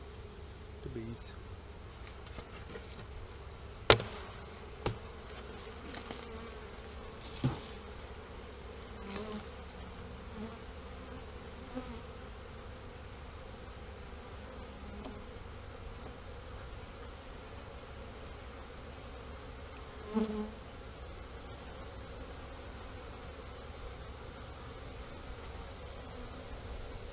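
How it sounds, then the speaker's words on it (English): Steady low buzzing of many bees around a hive, continuous and close, with a few sharp clicks and knocks. "The bees."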